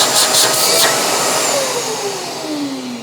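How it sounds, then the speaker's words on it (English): A Shark MessMaster VS101 portable wet/dry vacuum runs loud and close, a steady whining roar with a high motor whine that slowly drops in pitch as it settles. "and we simply just turn it on."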